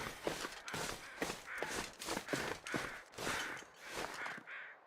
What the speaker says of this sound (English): Is that crows? See, there's some crows flying again